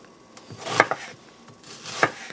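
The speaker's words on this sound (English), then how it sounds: "we're going to chop up an onion" Knife chopping an onion into big chunks on a cutting board, a few sharp separate thuds up close, with a short pause between the first strokes and the last.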